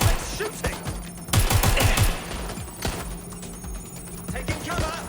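Gunfire in the video game Watch Dogs Legion, with sharp rapid bursts and a dense volley near the middle over layered game effects, loud and close.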